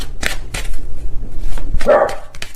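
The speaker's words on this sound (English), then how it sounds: "please ignore my dogs in the background" Several dogs indoors bark in the background while peering through window blinds, with sharp repeated yaps and barks in quick irregular bursts, one louder whining bark standing out near the end.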